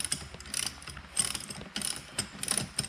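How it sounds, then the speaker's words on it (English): A ratchet tightens a 16 millimeter bolt on a bracket of a 2005 Chevy Corvette in close repeated clicking strokes, about five rhythmic bursts with no talk. "Start tightening that down."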